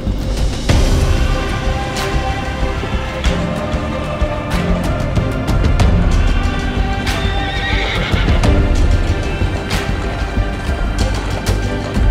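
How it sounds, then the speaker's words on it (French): Horses gallop through deep snow on a winter ride in Kyrgyzstan, with steady drumming hoofbeats and repeated loud whinnies and neighs close by over a continuous busy rumble. "les chevaux décident d'accélérer, la sensation du galop couplée à cet infini blanc rend l'expérience définitivement enivrante"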